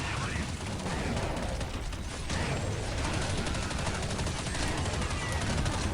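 MP5 submachine gun fire in Counter-Strike Online Zombie Z, loud rapid automatic bursts of shots running almost continuously, layered with dense game effects and mechanical clatter, with a player's voice talking over the action.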